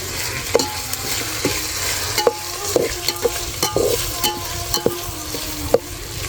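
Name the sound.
potato and chili added to frying onion and cumin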